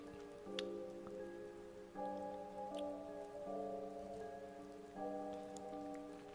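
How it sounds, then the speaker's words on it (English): Steady rain patters on surfaces with scattered drips in an alley in the visual novel game CHAOS;CHILD, while a sustained tonal hum shifts between chords underneath, like ambient game music. "the only sound in the alley was the sound of the rain"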